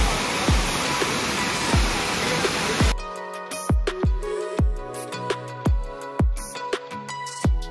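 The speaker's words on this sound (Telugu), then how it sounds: "బాగుంది కదా వాటర్ ఫాల్," A waterfall in Munnar roars as a dense, loud rush of broadband water noise, which then cuts to a series of sharp, rhythmic knocks and thuds.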